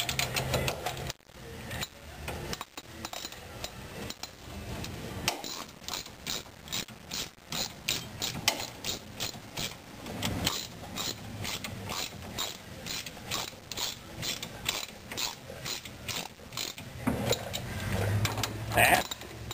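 A hand ratchet tightens the front brake caliper bolts on a 1935 Chevy, with long runs of rapid, evenly spaced clicks broken by short pauses, close and fairly loud, with occasional metallic knocks.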